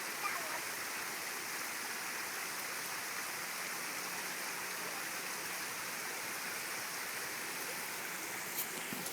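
A waterfall roars continuously, a dense even wash of falling water that fills the whole stretch without pause.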